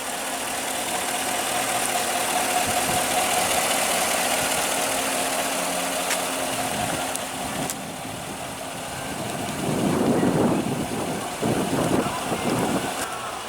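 A 2015 Chevrolet Tahoe with the 5.3 L V8 idles steadily nearby, a low continuous rumble with a slight rise in revs toward the end.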